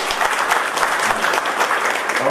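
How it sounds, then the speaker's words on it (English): Loud, dense audience applause in a campus hall at the close of a college accreditation meeting, steady clapping from a large crowd filling the brief stretch. "a big round of applause to"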